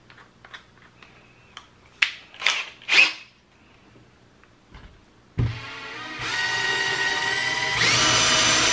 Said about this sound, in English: looks like I could drill something